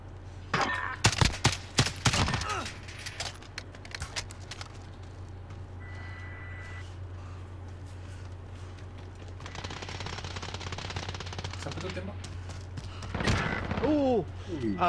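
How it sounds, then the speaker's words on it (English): MG42 machine gun fire in a Call of Duty Modern Warfare search and destroy match, sharp bursts early on and again near the end, with softer firing and background noise in between. "One guy by the tower using MG42."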